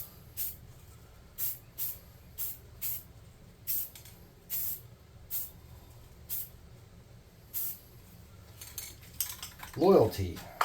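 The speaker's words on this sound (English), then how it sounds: "We're going to spray paint this doofus real quick." Short bursts of hissing spray from a spray paint can repeat at a steady pace, faint and close, with a brief louder rustle near the end.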